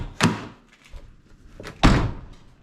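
A Ford Ranger pickup door bangs twice, an opening clunk followed by a heavier slam about a second and a half later. Both sounds are close and sharp and stand out against quiet surroundings.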